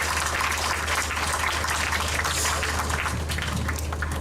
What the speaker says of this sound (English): So can we have a round of applause for Mr. Rousseau?